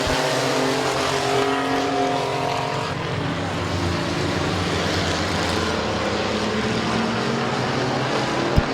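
Mini trucks racing in a feature event at Midvale Speedway, a dense continuous roar of several engines droning at steady loudness, with one sharp knock near the end.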